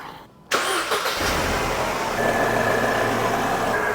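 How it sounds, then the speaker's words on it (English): A Mercedes-Benz SLK R170 roadster engine cranks briefly and catches, then settles into a steady idle close to the microphone, heard alone just after fresh belts were fitted. "Start it up."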